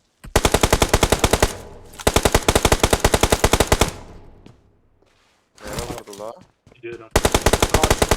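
Rapid automatic gunfire in the PUBG Mobile video game, long loud bursts of close shots with a pause in the middle, and brief speech between the volleys.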